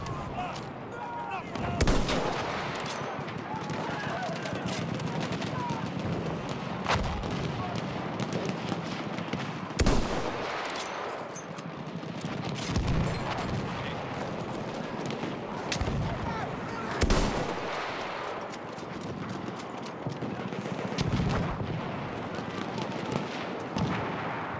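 Machine gun fire in the Battlefield 1 video game, with repeated loud bursts of gunfire and artillery-like booms over a dense battle din, mixed with voices throughout.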